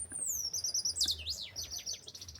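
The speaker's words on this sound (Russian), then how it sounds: "Как тут красиво поют птички" Small songbirds sing near a house in the Tilcara area, bright clear whistled phrases and rapid chirps close by over a low outdoor hum.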